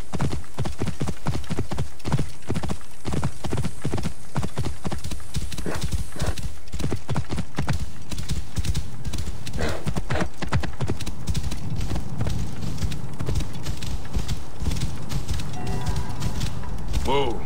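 Hooves clatter in a fast, steady galloping rhythm, loud and close, with a horse whinnying partway through and faint background music, in the video game Assassin's Creed Origins.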